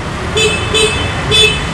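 Three short Honda Vario scooter horn beeps, loud and close, evenly spaced over an idling engine.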